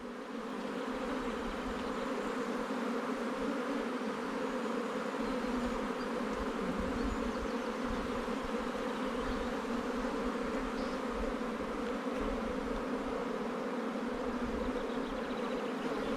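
Honeybees buzz steadily over a hive frame during artificial swarming, a dense, continuous drone of many wings close by with no voices.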